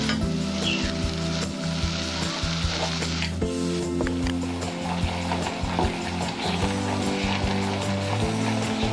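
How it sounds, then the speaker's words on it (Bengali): Tomato puree and green chili masala sizzling and frying in a pan for egg curry, steady loud crackling with occasional stirring scrapes and no talk. "এরকম করে ভালোভাবে মশলাটা কষাতে হবে একটু টাইম নিয়ে, তাইলে কাঁচা মশলার গন্ধটা থাকবে না।"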